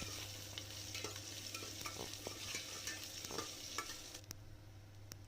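Mustard seeds, cumin, curry leaves and onion fry in hot oil for Andhra-style palak menthi pappu, a steady crackling sizzle with scattered pops and stirring scrapes, no voices.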